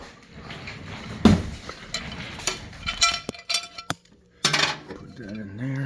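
Plates and dishes clink and knock together as the parts of a newly unboxed Hamilton Beach microwave are handled, a run of close, irregular clatters with brief pauses, and voices are heard between the handling.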